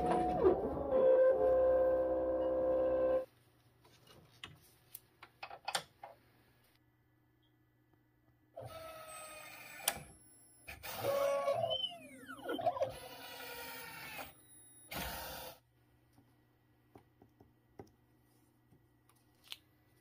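Lens-cutting machine edging new prescription sunglasses lenses, a loud mechanical whir for a few seconds followed by bursts of grinding, clicks and ticks close by.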